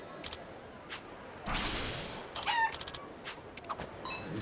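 Chickens cluck and squawk in the video game Like a Dragon: Infinite Wealth, with a few short calls and bursts over a quiet background, including a louder flurry of fowl noise midway.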